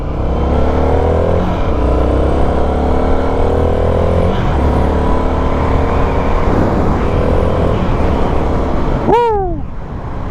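Indian FTR1200S motorcycle (2020) accelerating hard on the road, loud close engine roar climbing steadily through the gears with brief dips at shifts, and a rising rev near the end.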